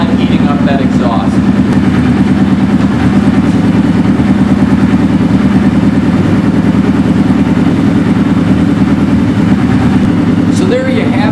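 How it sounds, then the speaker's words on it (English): A vintage motorcycle engine idles loud and close while warming up, with a steady, throbbing low rumble that holds unchanged throughout. "if you're going to start a vintage bike, the point here is let that exhaust system completely warm up"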